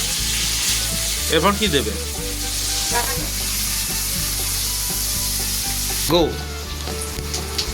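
Chopped onion hits hot oil in a kitchen pan and sizzles loudly with a steady frying hiss and stirring scrapes, while people chat briefly in the background.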